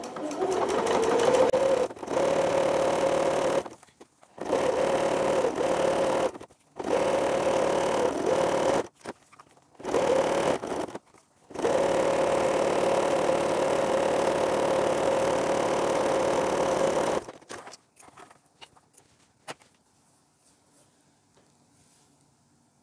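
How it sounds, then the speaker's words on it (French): Sewing machine running a zigzag (lightning) stitch over jersey and elastic, close and loud, a steady motor whir in several bursts separated by short pauses, then stopping and leaving faint handling sounds. "c'est le moment de faire la deuxième passe que moi je fais en point éclair"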